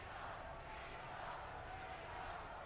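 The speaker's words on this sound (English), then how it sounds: "Crowd rallying for John." A wrestling arena crowd cheers and rallies for John Cena, producing a steady, distant roar of many voices. It stays fairly faint and unbroken throughout, with no single shout standing out.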